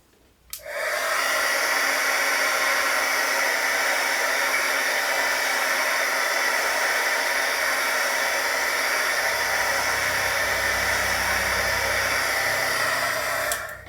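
A heat tool blows steadily for about thirteen seconds while drying Distress Oxide ink on craft paper, a loud, even whirring hiss that switches on abruptly and cuts off at the end.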